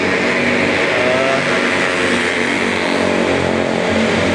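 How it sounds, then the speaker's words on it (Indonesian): A loud motorcycle engine roars steadily close by, droning and revving without pause as it passes along the road by the Kalimalang canal in Bekasi, Indonesia. "berisik banget ini motor yang menuju ke arah Grand Kota Bintang"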